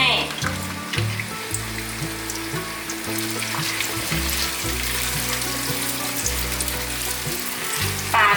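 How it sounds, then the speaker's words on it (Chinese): Taro pieces frying in a wok of hot oil, a steady broadband sizzle running throughout with background music layered over it. "锅内倒入足够的油，要炸芋头。"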